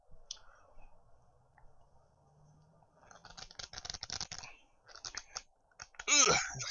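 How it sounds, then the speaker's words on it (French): A jar of homemade pickled onions resists being opened, giving off scattered clicks and rattles of lid and glass, with quiet breathy vocal sounds and a louder burst near the end. "si j'arrive à ouvrir le pot"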